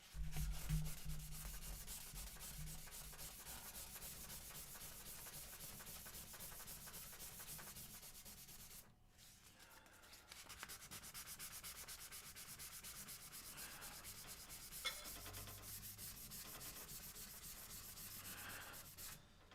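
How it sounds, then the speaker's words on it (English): Hard plastic pinball playfield lens being sanded by hand with sandpaper: steady, close, continuous rasping strokes, with a brief lull midway before the scrubbing resumes at the same pace. "This sandpaper gets sandy or real quick like."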